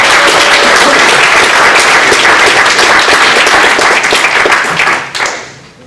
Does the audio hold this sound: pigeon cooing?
no